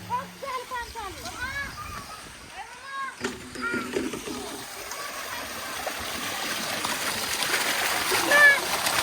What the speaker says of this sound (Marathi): कृष्ण कर आंघोळ गार लागते ना गार लागते गरम लागते